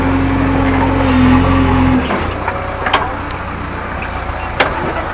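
Mahindra Arjun 605 DI tractor engine droning loud and low nearby, then dropping to a quieter idle after two seconds, with a few clanks and clicks afterward.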